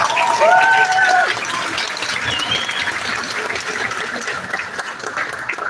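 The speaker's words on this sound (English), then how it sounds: "Let's give a big round of applause" Audience applause at a service dog graduation, a crowd clapping loudly with a few high squeaky whistles or cries early on, then settling into steady clapping.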